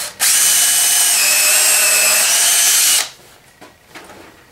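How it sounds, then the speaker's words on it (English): Power drill boring a hole in wood for a rat rack build, one loud continuous high whine lasting about three seconds before cutting off abruptly, followed by faint handling noises, no talking. "And then you just drill my hole."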